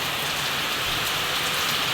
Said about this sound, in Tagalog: Bigla na naman pong pumatak ang malakas na ulan